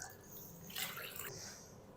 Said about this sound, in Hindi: कलेजी को अच्छी तरह मैं धो लूँ